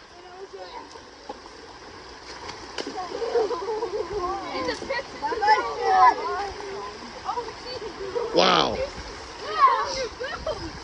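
Water rushes through a broken beaver dam in a creek, a steady broadband flow with splashy surges, loudest around the middle and near the end, while people talk over it.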